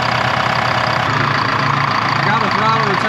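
A 1976 Ford F250 fitted with a turbocharged Detroit Diesel 4-53T engine idles very low, giving a steady close-up rumble with a faint uneven knock throughout.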